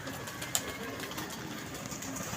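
A white female pigeon cooing softly in a Pakistani pigeon coop, faint low murmuring coos under a hissy background with one brief sharp click near the start.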